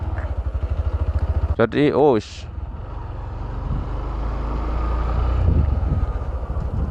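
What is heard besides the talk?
motorcycle engine revving while shifting gears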